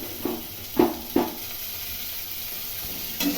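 Garlic, ginger and green chili paste frying in a pan with onions, giving a low steady sizzle broken by a few sharp stirring scrapes, no talking.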